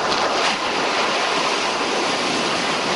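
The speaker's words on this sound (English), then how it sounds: "It can be hard to hear above the crashing waves" Ocean surf crashing on a beach, a loud, continuous roar of breaking waves with wind noise blowing across the microphone throughout.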